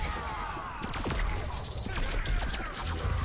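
Cyborg firing a charged shot in the fighting game Injustice 2, a burst of sharp blasts and impacts over busy game effects.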